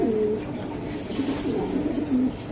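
Racing pigeons coo in a steady series of low, throaty calls close by, with no voices over them.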